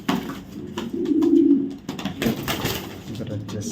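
Racing pigeons from a club loft coo in low, throaty bursts close by, one drawn-out coo standing out, while someone talks over them.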